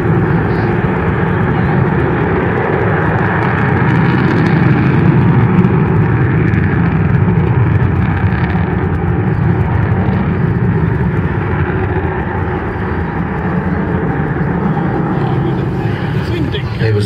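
Avro Vulcan bomber XH558 at full power during the 2009 East Fortune Airshow, a loud, continuous jet roar that fills the whole stretch, with a commentator's voice running over it.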